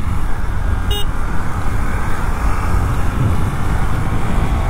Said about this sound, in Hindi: ट्रैफिक फुल आवाज सड़क पे।